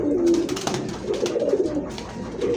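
Fancy pigeons for sale, including Lahore, satin, lakka, racer and giribaz breeds, coo steadily and loudly nearby in low, throaty rolling calls that overlap without pause.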